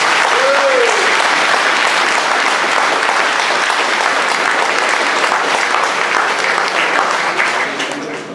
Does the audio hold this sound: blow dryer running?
no